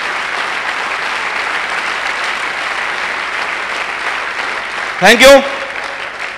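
An audience at a motivational lecture claps in steady, sustained applause throughout, and someone briefly says a few words near the end.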